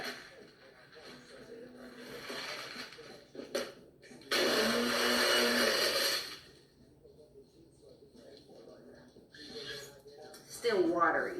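Magic Bullet blender mixing an iced Cinco de Mayo drink: a loud whirring burst of about two seconds, with quieter rustling and handling before and after, and a second short grinding spurt near the end.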